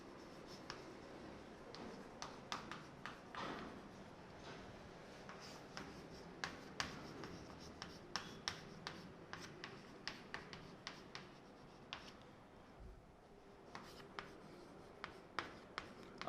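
Chalk or marker writes on a classroom board during a physics lecture on simple harmonic motion, giving a quiet run of rapid taps and clicks, irregular and close by, with no talk over them.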